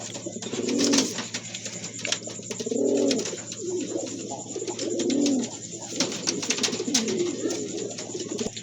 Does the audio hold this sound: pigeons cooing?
yes